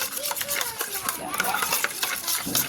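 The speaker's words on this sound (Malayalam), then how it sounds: "അരിപ്പൊടി മിക്സാക്കി കൊടുക്കട്ടെ" Rice flour being stirred into a mixture in a kitchen, a soft scraping and clinking of utensil against bowl repeating briskly, close by, with faint background voices.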